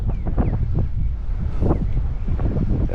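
Strong wind buffeting a microphone outdoors while bluegill fishing on the water, a loud constant rumbling roar with gusty bursts and no clear speech.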